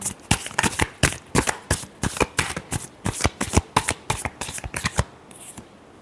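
Tarot cards get shuffled by hand in quick riffling bursts, about twenty crisp close flutters in a steady rhythm before a brief pause at the end, with no voice.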